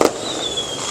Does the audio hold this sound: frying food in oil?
no